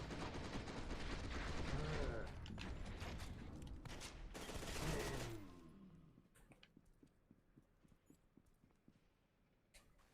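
Heavy gunfire and explosions from the shooter game F.E.A.R. 2: Project Origin, a dense loud barrage with big blasts through the first half, then thinning into scattered sharp pops and impacts.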